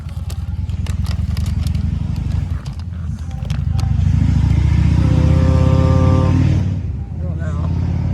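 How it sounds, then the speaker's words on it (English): A motorcycle engine swells up close and roars past, its rising harmonic whine peaking then fading, with a person speaking briefly at the start. "Gotta love motorcycles."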